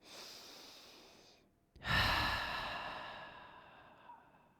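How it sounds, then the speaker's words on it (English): Slow, deep breathing during a yoga shoulder stretch with shoulder blades squeezed together, heard close and alone: a long soft exhale fades out, followed by a strong, full inhale and a gradual release. "Breathing."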